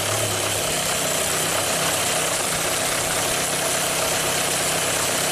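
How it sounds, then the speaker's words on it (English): A 1997 Kia Sportage 4x4 engine idles with a steady, close, continuous rumble, its idle surging and oscillating with the idle air control valve unplugged; no one speaks. "I want the idle to drop down, and why is it oscillating so much?"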